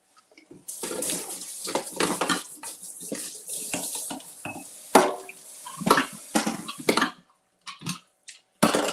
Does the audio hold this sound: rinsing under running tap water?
yes